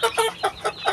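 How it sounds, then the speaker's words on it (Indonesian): Elba chickens cluck close by in a backyard coop, five quick rhythmic clucks in about a second, loud and clear without talking. "ini ayam saya, alhamdulillah ya lumayan banyak sih"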